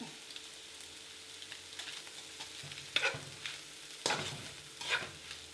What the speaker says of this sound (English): it's really important that you mix it thoroughly so that every little piece of noodle gets some of that beautiful flavour